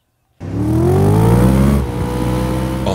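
A dune buggy engine bursts to life and revs hard, pitch climbing steadily, then settles into a loud, rough idle, close and alone with no voices.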